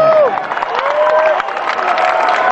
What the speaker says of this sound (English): a nice round of applause for the Cheetah Colossa for putting on a good fight